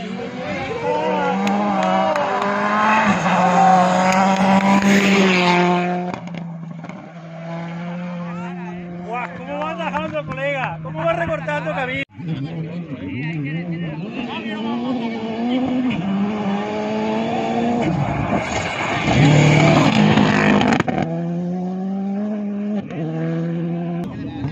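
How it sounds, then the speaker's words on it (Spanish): Rally car at the Rallye Tierras Altas de Lorca, engine revving hard through rising and falling gear changes as it passes nearby, loud and sustained over roughly twenty seconds, with no talk over it. "Está a punto de pasar ahora el coche por delante mía."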